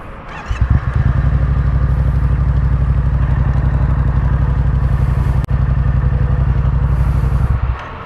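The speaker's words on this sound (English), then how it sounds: "FZ07 specifically, you have to be in neutral to start the bike." A Yamaha FZ-07 motorcycle engine starts in neutral and settles into a loud, close, steady idle with a rhythmic throb lasting several seconds before cutting off.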